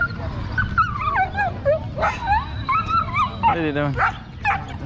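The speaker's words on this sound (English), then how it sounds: "Oh, dogs are fighting." Street dogs in Ciudad del Este, Paraguay, fight with sharp yips, whimpers and snarling barks in quick bursts at close range, while someone speaks over the scuffle.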